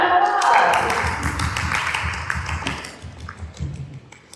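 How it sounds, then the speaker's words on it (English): A crowd applauds at a release party for two books, Winging It and The Corporate Tarnish: a dense, close patter of clapping that rises fast and thins over four seconds, with voices mixed in. "Round of applause!"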